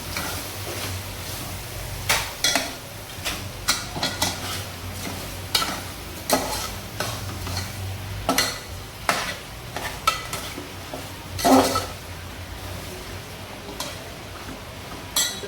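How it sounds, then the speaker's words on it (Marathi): Mutton pieces frying in a spicy masala for a village-style mutton curry, with a soft sizzle under repeated scraping and stirring strokes of a spoon against the pan, occasional metallic clinks, and no talk. "मटण टाकून झाल्यानंतर मस्त असं फ्राय करून घ्यायचं मसाल्यामध्ये"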